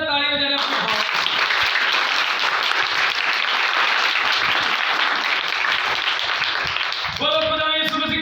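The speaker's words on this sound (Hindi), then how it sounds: "जोरदार तालियां देने अपने बाप।" A crowd at a Christian Father's Day sermon breaks into loud, sustained applause, with a voice speaking briefly before the clapping and again as it fades.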